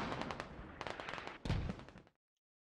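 Mortar rounds landing in the Squad video game: a fast cluster of sharp blasts in two bursts, loud and close, the second heavier, then sudden silence.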